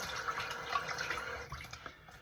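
Water rinses the grey slurry off a Moughton hone stone, a continuous trickling and splashing close by with small drips, steady for about two seconds and easing slightly at the end.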